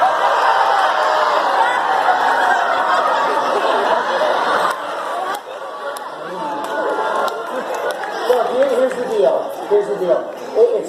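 Live audience at a stage science show cheering and whooping on cue, a loud crowd roar that dips and then continues as scattered cheers, chatter and laughter.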